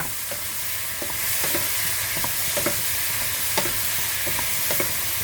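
Shrimp and vegetables stir-fry in a hot pan, a steady loud sizzle with repeated scraping clicks of a spatula against the metal, no voices.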